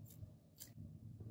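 Scissors trim a paper bow sticker in two quick, quiet snips close by against a soft background hum.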